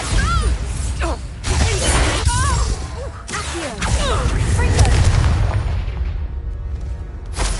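An explosion from the Bombarda spell in the video game Hogwarts Legacy booms and crashes with shattering debris, loud and sustained before tapering off, with game sounds and voices mixed in.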